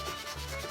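Brisk, steady hand rubbing of wax finish onto wooden furniture, a continuous close scuffing friction sound with no breaks and no talking.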